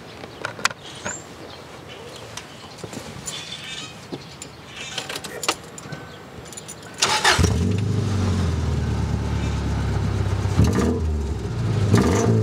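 An RC Subaru wagon race car sits quietly with faint clicks and birds before its engine starts partway through and revs loudly and steadily, a buzzy close engine note to the end, with no talk.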